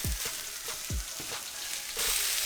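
Ground meat sizzles and fries in a pan, a steady crackling hiss close up, broken by a few scraping, stirring strokes, with no talking.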